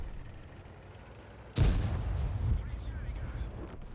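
A tank cannon fires once in World of Tanks, a single sharp, loud boom followed by a rumbling tail over faint game background noise.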